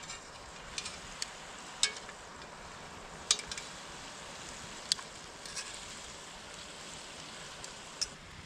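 Chicken frying in a pan at a camp in a hot tent by Lake Waccamaw, North Carolina, giving a steady low sizzle with scattered sharp pops and crackles, quiet and close.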